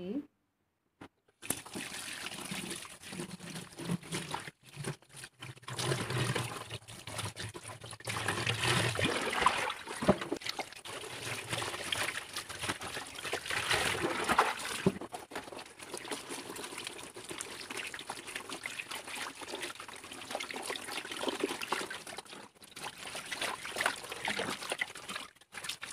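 A tie-dyed shirt being rinsed in water, with trickling, splashing and pouring sounds running under intermittent talk, fairly quiet and close.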